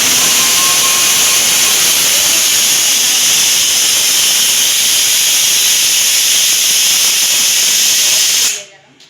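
A pressure cooker releases a loud, continuous jet of hissing steam that rushes nonstop for several seconds, then cuts off abruptly near the end.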